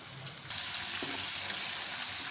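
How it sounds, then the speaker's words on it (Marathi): Chopped onions sautéing in a pan, a steady broadband frying hiss that swells suddenly after a quieter start and then holds close and even. "त्याला छान परतून घ्यायचं आहे आणि लाल थोडे खरपूस होईपर्यंत ते कांदे होऊ द्यायचे आहे।"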